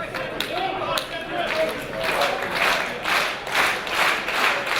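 A wrestling crowd at a live pro-wrestling event cheers and claps in rising and falling surges as a wrestler charges the corner, with a commentator's voice running over the noise.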